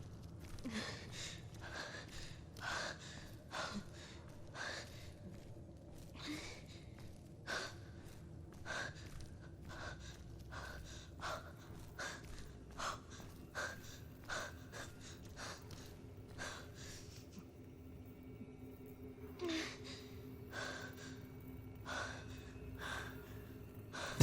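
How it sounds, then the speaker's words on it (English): A character in the video game Beyond: Two Souls breathes heavily and unevenly, with repeated sharp gasps and panting over a low game ambience, fairly quiet throughout. "the sound direction, just with having Jodie breathing as like off as she is, it's something else that really puts you into the scenario"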